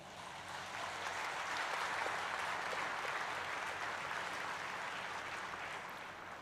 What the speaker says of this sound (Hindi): आप सभी के लिए एक बार जोरदार तालियां हो जाएं।